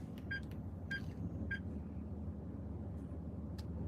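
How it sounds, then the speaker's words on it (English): A truck gives short, bright, repeated beeps in a loose irregular pattern, moderately faint above a steady low rumble, with no talk. "Sorry about my truck beeping."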